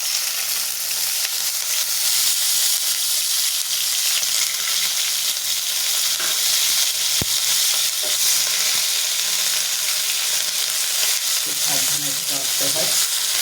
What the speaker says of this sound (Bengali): আদা রসুন পেঁয়াজ বাটা আছে সেটা আমি দিয়ে দিলাম